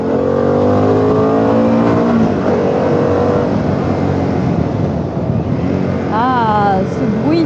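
A 2023 Harley-Davidson Pan America 1250 motorcycle engine revs and accelerates in a steady, loud rising drone, heard from the ride with a voice talking over it throughout.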